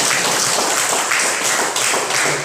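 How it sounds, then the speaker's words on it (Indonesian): Classroom applause for classmates during a biology lesson: brisk, continuous clapping from a group of students, close and fairly loud, with no talk over it. "berikan aplaus dulu untuk teman-teman"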